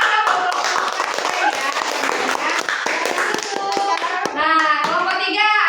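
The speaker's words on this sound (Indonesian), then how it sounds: "Beri tepuk tangan dong." A class of students clapping their hands in a lesson, brisk steady claps throughout with children's voices chattering over them, followed by a spoken voice near the end.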